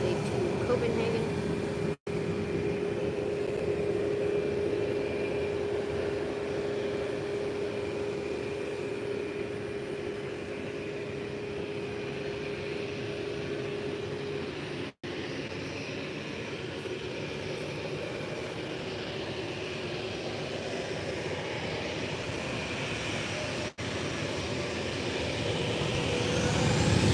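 TUI airliner at Málaga Costa del Sol airport, a broad steady roar of jet engines with a whining tone, sustained and fairly loud throughout and swelling near the end.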